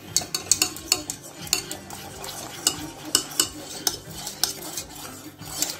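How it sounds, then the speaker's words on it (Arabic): Steady stirring of a chocolate mirror glaze as butter melts into it, a utensil tapping and scraping the pot in a quick, regular rhythm of clinks over a soft background hiss, close and without talk. "ما تحبسوش التحرك ملي ديروا الزبده كلها"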